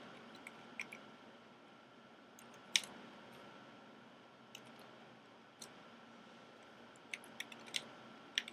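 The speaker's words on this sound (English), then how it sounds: "So let me type in the commands, and then I'll explain what each command is." Keys tapped on a computer keyboard as commands are entered, sparse quiet clicks scattered over a steady low hum, with a louder cluster near the middle and a few more toward the end.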